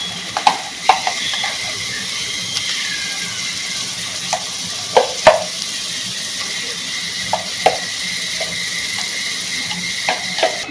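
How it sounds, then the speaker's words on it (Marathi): Masala paste for Kolhapuri misal sizzles steadily in a hot pan while a spoon stirs it in, with frequent sharp clicks and scrapes against the metal, close and fairly loud, no talking. "आता हे आपण वाटण टाकून घेऊ याच्यात."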